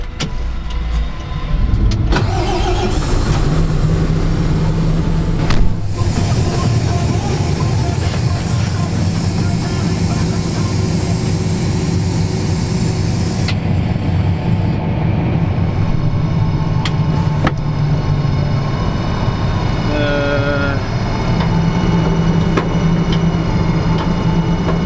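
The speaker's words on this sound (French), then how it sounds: "Il est là, le Fendt 942, le tout dernier génération 6." A Fendt 942 tractor of the latest generation 6 runs steadily, loud and close, with a continuous engine drone and a sustained whining tone for the whole stretch.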